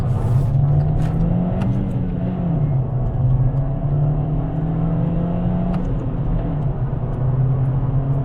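A 2017 VW Scirocco GT Black Edition driving along a road, its engine giving a steady, loud drone that rises and falls slightly as it pulls along, with no talking.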